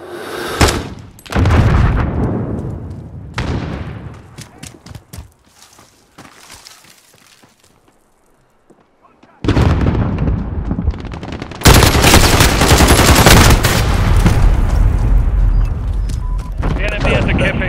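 Loud, dense automatic gunfire and explosions roar through a multiplayer video game battle. Sustained bursts rise and fall, a quieter stretch passes, and then heavy continuous firing returns, with voices speaking amid the noise.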